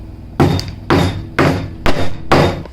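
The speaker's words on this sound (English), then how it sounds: "Then you can hammer these in." Five sharp hammer blows in an even rhythm, close and loud, each a crisp knock on wood with a short ring, as climbing wall nuts are hammered into a wooden indoor climbing wall panel.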